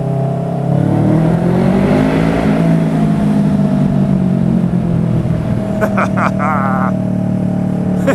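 A motorbike engine revs hard inside a London tunnel, its loud droning note rising and holding with echoing resonance, continuous and close throughout, with a brief higher whine near the end.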